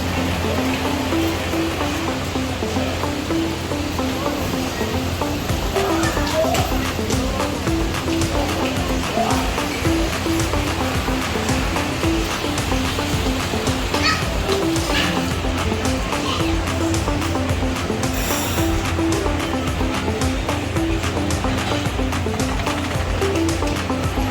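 A river flowing steadily at Inki River in Beacon Resort, Hulu Selangor, a continuous broad wash of moving water heard up close, with faint background chatter and birds mixed in.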